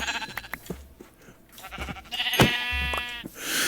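Several Minecraft sheep bleat close by in a short run of overlapping, nasal calls, with quiet in-game ambience between them.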